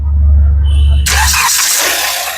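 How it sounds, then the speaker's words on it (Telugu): A 2016 Hyundai Creta SX starting on a single crank, a loud low rumble that cuts to a sharp burst as the engine catches, then settles into a steady close idle. "సింగిల్ సెల్ఫ్ లో కార్ స్టార్ట్ అయితే ఎటువంటి స్టార్టింగ్ ట్రబుల్ అయితే లేదు"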